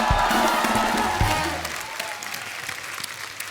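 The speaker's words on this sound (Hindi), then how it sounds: "एक बार गुलशन जी के तालियां हो जाए यार।" A studio audience at the Kapil Sharma comedy talk show applauds loudly, and the clapping fades over a few seconds into a softer patter.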